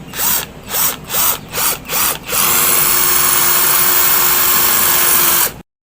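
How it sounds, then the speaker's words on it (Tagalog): Cordless drill boring into cement: several short bursts of whining drilling, then one long sustained loud run before it cuts off, with no talking. "subukan natin siyang pang drill sa semento."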